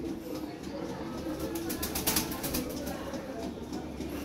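Lahore pigeons coo and shuffle nearby, a low continuous murmur of calls with faint wing and movement noises over steady background hum.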